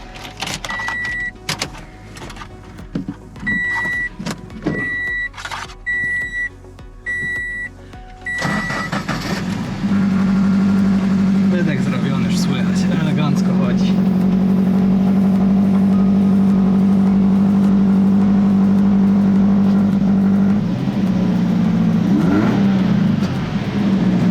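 Salvage car at a Copart auction yard in Trenton cranks and starts, then settles into a loud, steady idle that runs on uninterrupted after the start, with no one speaking.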